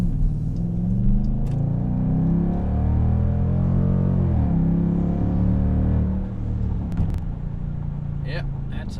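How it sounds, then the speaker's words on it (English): A Dodge Durango V8 with an MRT 3-inch exhaust accelerates, a deep rumbling engine note rising and shifting in pitch from inside the cabin, with a voice talking over it near the end. "Yep, that's American V8 sound."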